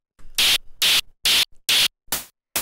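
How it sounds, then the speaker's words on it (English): Bursts of synthesized noise shaped by a bandpass filter and hard shaper, six short loud hissing pulses in a steady rhythm separated by silence. "the first one here is just noise with a bandpass filter, but you can see it's got this hard shaper"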